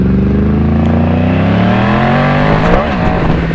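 Yamaha MT-10 motorcycle on a test ride, its engine loud and close, revving up with rising pitch and a brief dip near the end as it climbs again.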